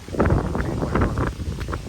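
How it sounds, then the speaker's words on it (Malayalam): Steady roaring wind buffets the microphone at the start of a summer rainstorm, a broad continuous rush with gusty swells throughout, no voices. "നല്ല കാറ്റും നല്ല മഴയും പിടിച്ചിട്ടുണ്ട്"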